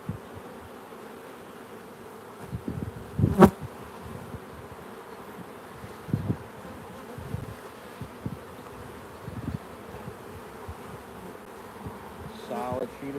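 Honey bees buzz steadily around an open hive during an inspection, a soft continuous drone with occasional louder passes as individual bees fly close, plus a few handling knocks and clicks.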